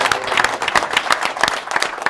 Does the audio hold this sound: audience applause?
yes